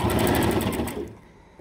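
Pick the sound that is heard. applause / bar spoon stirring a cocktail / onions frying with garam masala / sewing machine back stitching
sewing machine back stitching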